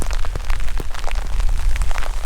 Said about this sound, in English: It's raining heavy now.